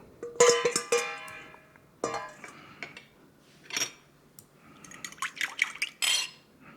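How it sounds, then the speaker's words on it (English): Liquid ingredients poured and added into a clear bowl of dry ingredients for pan pizza dough, with clinking of the bowl and utensils and short splashy bursts, close and intermittent, with no voices. "I like to put my dry ingredients first and then add the liquids afterwards."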